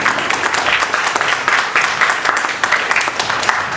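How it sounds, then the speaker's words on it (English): A crowd at a coffee table launch event gives a loud, sustained round of applause, many hands clapping in a dense, even patter for the whole stretch without any speech. "A big round of applause for that."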